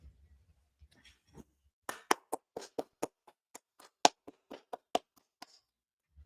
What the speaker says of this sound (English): Let's give them a round of applause, guys.